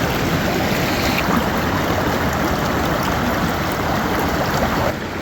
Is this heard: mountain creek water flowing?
yes